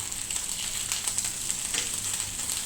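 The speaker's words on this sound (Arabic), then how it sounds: "هذا السردين اللي شاركت معاكم اللي كيتشوى في الداخل كينوض في المقله." Sardines grilling in a dry frying pan with no oil, giving a steady, close hiss and sizzle with faint crackles throughout.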